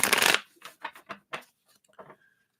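Tarot cards are shuffled close by, starting with a loud riffling burst and followed by several short, crisp flicks and taps of the cards settling into the deck.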